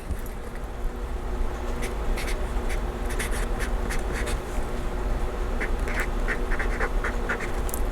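A chisel-tip highlighter pen squeaks and scratches across planner paper in short repeated strokes, close-up and fairly quiet against a faint background hum, with no talking.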